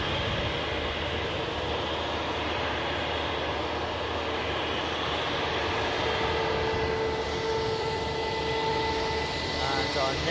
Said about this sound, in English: Currently is the Embraer E190, registration GLCYM, which will shortly be departing to London City.